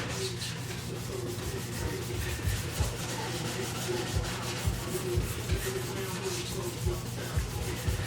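A 2002 Ford Focus headlight lens is rubbed in circular motions, making a continuous close scratchy sanding sound with soft rhythmic pulses at each pass, and no voices.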